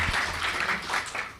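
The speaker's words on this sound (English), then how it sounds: "we need another warm round of applause for our panel and our facilitator" An audience at a panel event on education and labour breaks into warm applause, a dense, continuous clapping that swells and eases over a brief moment.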